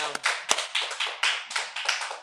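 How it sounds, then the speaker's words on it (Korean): A small congregation at a church prayer meeting gives a short round of applause, sparse separate claps with irregular rhythm, close and fairly quiet. "박수 한번 쳐주세요"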